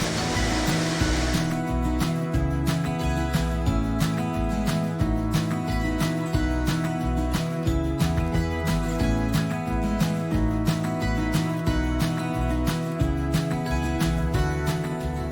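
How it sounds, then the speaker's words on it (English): Water roars continuously over a weir on Cotlake Hill near Taunton, a steady loud rushing wash close by, with an unchanging churning texture throughout. "in the directions, this is known as the Weir, but I know it as Troll Waterfall"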